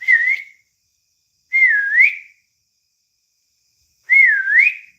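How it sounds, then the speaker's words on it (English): A person whistles outdoors to call a dog, giving three loud rising-and-falling whistles spaced a second or two apart, with silence between them. "I go outside and whistle."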